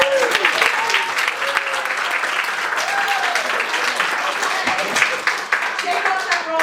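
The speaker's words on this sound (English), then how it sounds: "let's give a nice round of applause" An improv show audience breaks into loud, dense applause that carries on steadily throughout, with voices and cheers mixed into the clapping.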